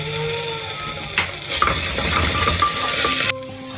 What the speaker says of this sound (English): Now I'll be dropping in ginger garlic paste and we'll cook them till they release their aroma.